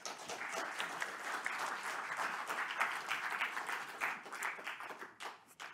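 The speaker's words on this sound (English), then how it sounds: "Let's welcome our third speaker and give a round of applause." An audience at a university lecture event applauds to welcome a speaker, with dense, steady clapping that carries on for several seconds before thinning slightly at the end.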